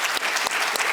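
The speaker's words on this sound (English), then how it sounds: "So let us give Dr. Yamba another round of applause" An audience at an Essex County College event applauds Dr. Yamba with a brief burst of dense, steady clapping.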